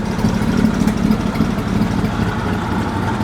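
A race car engine idles with a steady, low rumble, even throughout, loud and close, with no speech.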